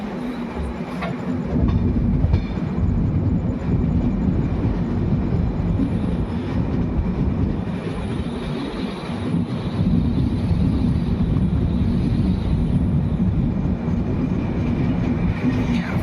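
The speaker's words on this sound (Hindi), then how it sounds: "तो ये वाला लोकोमोटिव अब हमें लीड करेगा।" Indian Railways passenger express hauled by a WAP7 electric locomotive, heard as a steady loud rumble of rolling train noise with a faint rhythmic clatter throughout, no talking.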